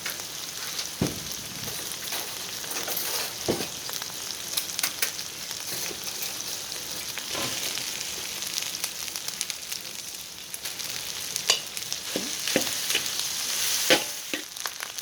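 Continuous sizzling and crackling of Javanese fried rice frying in a hot pan, with occasional scraping stirs, steady and close, no voices.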